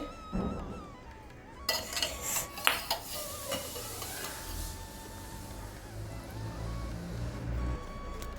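Curd is stirred into snake gourd pachadi with a spoon scraping and clinking against the vessel in a quick burst of knocks, then a softer, continuous mixing rustle, close and fairly quiet.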